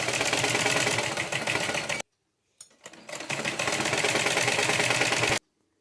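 A sewing machine runs fast, stitching a Patiala pajama in two steady, loud, close bursts separated by a short pause with a few faint clicks.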